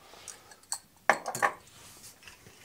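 Spoon clinking and scraping in a bowl while tandoori marinade with yogurt is mixed, a few sharp metallic knocks in quick succession among softer stirring sounds, close and moderately quiet.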